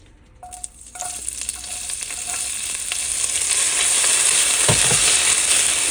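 Onions go into a hot oiled pan with a sharp hiss that grows into a steady, loud sizzle, a brief clatter of stirring partway through, no voices.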